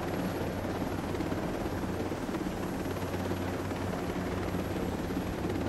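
Helicopter in the tactical shooter game Ghost Recon Breakpoint, its rotor and engine drone steady and loud throughout, with no letup or change in pitch.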